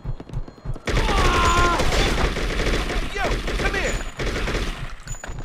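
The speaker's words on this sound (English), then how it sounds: "I'm just doing FPS shooting" Rapid bursts of automatic gunfire and explosions in a first-person shooter video game, loud and dense, a sustained fusillade with brief gaps and a voice talking faintly underneath.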